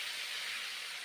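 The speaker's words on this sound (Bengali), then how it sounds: "ভেজে নিচ্ছি মাশরুম, পটল, ঝিঙে।" Mushroom, pointed gourd and ridge gourd frying in oil with salt and turmeric, giving a steady, loud, continuous sizzle and hiss throughout with no pauses or talk.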